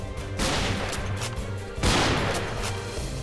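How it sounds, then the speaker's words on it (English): Gunfire from a guard shooting from an observation tower in a Minecraft animation of a Roblox-style prison escape, heard as two loud, rough blasts of shots with heavy rumbling noise continuing between them. "He's shooting at us."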